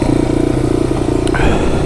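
A Yamaha Warrior 350 ATV with a freshly rebuilt carburetor idles steadily close by, its single-cylinder engine thumping evenly, with a brief rev or clatter near the end.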